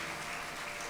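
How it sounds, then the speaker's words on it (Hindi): An audience at a religious discourse applauding, a dense, steady wash of many hands clapping together for a brief moment. "अरे इतनी भी ताली मत बजाओ"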